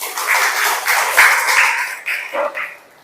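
Students clapping in a classroom after a group presentation, a dense burst of applause that swells, dips and trails off over a few seconds, with no talk over it.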